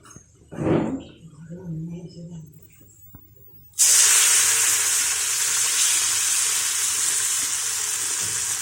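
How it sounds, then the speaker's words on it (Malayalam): Batter-dipped potato bondas hit hot oil and erupt into a loud, steady sizzle that holds to the end, after a quieter stretch with a brief clatter near the start. "അതിലേക്ക് ഉരുളക്കിഴങ്ങ് ഉരുളയായി വെച്ചത് മാവിലേക്ക് മുക്കിയിട്ട് ആ എണ്ണയിലേക്ക് ഇടാം"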